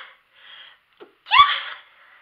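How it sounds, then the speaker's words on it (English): A single close sneeze bursts out after a few short breaths and a small catch, then fades quickly into quiet. "I have to sneeze."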